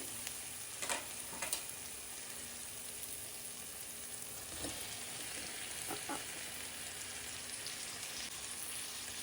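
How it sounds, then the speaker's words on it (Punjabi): Fried vegetables being stirred into sizzling masala that has released its oil: a steady, quiet sizzle throughout, with a few soft scrapes and clicks from the spoon. "ਹੁਣ ਜਿਹੜਾ ਹੈ ਜੀ ਫਰਾਈ ਕੀਤੀਆਂ ਹੋਈਆਂ ਸਬਜ਼ੀਆਂ ਜਿਹੜੀਆਂ ਇਹਦੇ ਵਿੱਚ ਅਸੀਂ ਮਿਕਸ ਕਰਾਂਗੇ"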